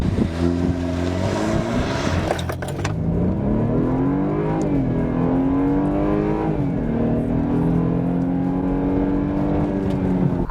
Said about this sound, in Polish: do setki tutaj przyspieszamy w